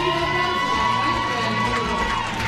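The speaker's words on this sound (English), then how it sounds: "A big cheer" A crowd at a Paralympic powerlifting championship in Eger cheers steadily, with a dense, sustained roar of voices and shouts throughout.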